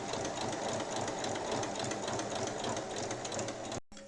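A sewing machine stitches a straight seam to join the fabric of a small DIY basket. The motor whirs steadily up close for about four seconds, then stops abruptly.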